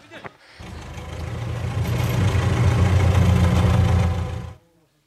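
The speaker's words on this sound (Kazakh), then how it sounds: "Трактор келді." A tractor engine rumbles up close and settles into a steady idle. The heavy drone swells after a short quiet start, holds loud and even, then cuts off abruptly.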